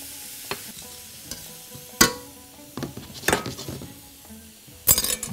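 Vegetables fry in butter in a pan with a soft sizzle underneath, broken up by sharp clinks and scrapes of a utensil against the pan. The stirring comes in irregular bursts and is quite loud.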